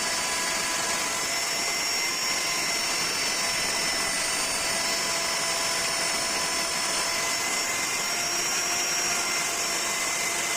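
A router machine runs continuously with a loud, steady, high-pitched whine and airy roar that stays constant and unbroken, with no voices.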